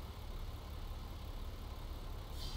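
A truck engine idles steadily in American Truck Simulator, a low continuous rumble with a stainless steel exhaust system, holding even throughout with a brief brighter hiss near the end.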